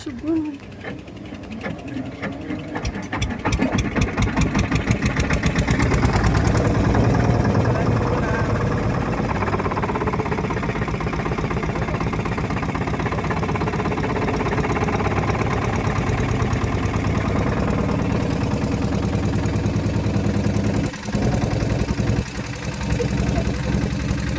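A motorboat engine chugs and idles steadily at close range on the Sharavathi backwaters, its rattling drone continuing throughout, with a brief dip near the end.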